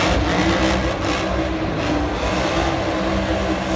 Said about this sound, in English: This truck is popping relentlessly.